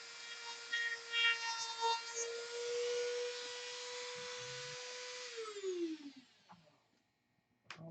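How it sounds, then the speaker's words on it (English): A rotary motor tool whines steadily as it grinds out material on an RC model, a high sustained motor tone that winds down near the end, with faint handling noises afterward. "I'm going to cut it off here and grind it out with the motor tool"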